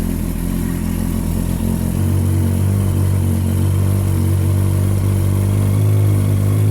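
A 1998 Yamaha R1 motorcycle engine, started with some choke, runs at a loud, steady idle close by, its low throbbing rumble continuous throughout with slight wavering in pitch.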